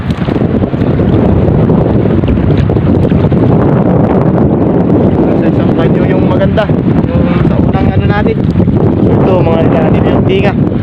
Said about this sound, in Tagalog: malakas na naman si Amihan oh malakas na naman